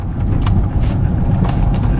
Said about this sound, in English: God, the roads are so bumpy.